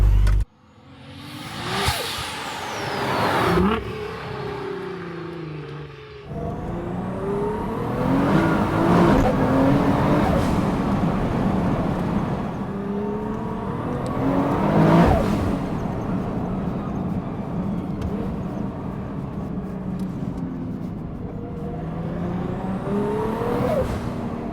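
A Nissan R35 GT-R with an Endless build revs its turbocharged engine hard, loud and close, in repeated rising and falling sweeps with turbo whoosh between pulls, no talking over it.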